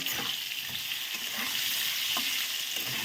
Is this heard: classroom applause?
no